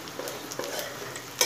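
Onion sizzles and fries in a pan for rava upma while being stirred, with soft scraping strokes over a steady close crackle.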